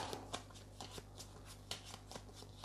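Playing cards are picked up, slid and tapped down on a table during a tabletop card game, making soft, irregular papery flicks and snaps that are close and quiet.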